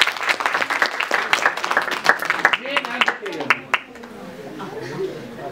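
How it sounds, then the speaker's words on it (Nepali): Audience applauding at a Lalitpur ward-level community gathering for women, youth and children, a burst of lively clapping that gradually thins out, with faint chatter beneath as it fades. "तपाईँको हातमा ताली बनाउनुहोस् सभाको लागि"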